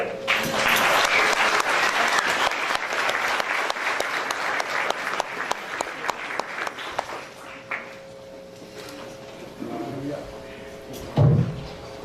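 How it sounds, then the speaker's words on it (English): Gala audience applauding at a foundation charity event, a dense, loud wash of clapping for several seconds that thins out and fades, leaving scattered claps and a few thuds near the end. "A nice round of applause for the doctor once again, please"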